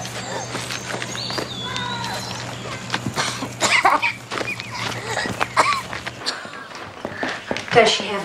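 A child coughs repeatedly in a domestic scene while adults talk over and around the short, rough coughs.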